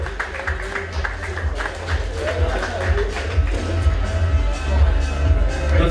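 Audience applause at an MMA weigh-in event: steady clapping from a crowd in a hall, moderately loud and building slightly toward the end, with an announcer's voice carrying over it.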